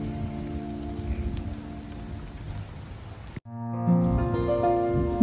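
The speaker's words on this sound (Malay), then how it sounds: "Tapi macam korang boleh tengok time ni hujan lebat." Heavy rain pours steadily at a hillside resort on Gunung Jerai in Kedah during a storm, a dense wash of falling drops that continues after a brief cut, with no talk.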